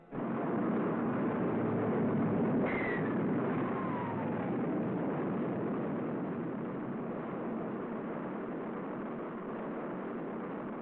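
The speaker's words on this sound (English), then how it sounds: "The rocket performs perfectly as it lifts the funnel-shaped capsule gracefully along." A broad, continuous roar from the rocket launch carrying Shepard's funnel-shaped capsule fills the scene, loud and steady from start to finish, with a brief whistling tone fading over it early on; the recording is muffled and old-sounding.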